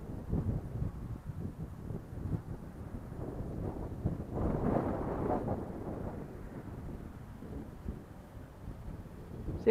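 Wind buffets the microphone at a radio-controlled model flying field, a soft, continuous low rumble that swells in the middle and eases off again, with no voices.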